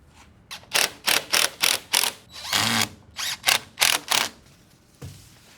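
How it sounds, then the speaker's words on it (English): A coated bugle-head screw is driven into cellular PVC trim from the backside, giving a close, loud run of about nine ratcheting, whirring bursts in a steady rhythm, with no talk. "And using a coated screw with a bugle head, screw in from the backside."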